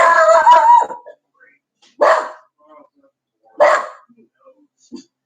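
A puppy barks indoors in two or three sharp, separate bursts with quiet gaps between them, loud and close, after a brief stretch of a person's voice.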